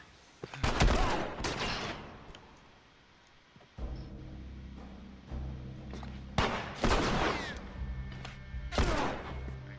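Gunfire from The Last of Us Part II rings out in several sharp bursts of loud, close shots with echoing tails, separated by quieter stretches of low rumbling ambience.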